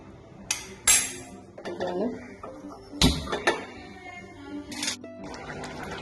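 A fish curry pot is set onto a stove, giving a few sharp metallic clinks and clatters of pot and utensils close by, with a voice talking over them.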